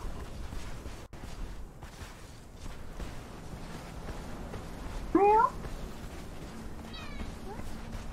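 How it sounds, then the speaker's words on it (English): A cat in the video game Conan Exiles gives a single clear meow midway, close and brief, over a steady background of game ambience and faint footsteps. "Cat."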